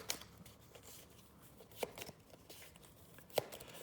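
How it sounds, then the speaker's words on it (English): Faint, soft card shuffling of a Maracaibo board game deck, quiet riffling with a few sharper taps of the cards on a table, close and alone. "I'm going to shuffle her cards real quick."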